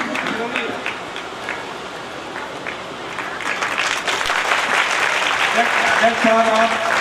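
An audience at a Bhagwat gathering at a gaushala in Rampura claps, the applause starting scattered and building to fuller, denser clapping toward the end.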